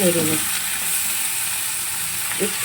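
Broad beans fry in a hot pan, giving a loud, steady, continuous sizzle throughout, with a spatula stirring and scraping at the start and again near the end.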